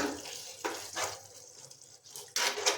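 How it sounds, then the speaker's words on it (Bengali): A small spoon stirs egg curry masala in a pan, giving soft scraping strokes in several bursts over a low sizzle, moderately close with no voices. "এবার এটাকে একটা ছোট্ট চামচ দিয়ে ভালো করে নেড়ে নেব"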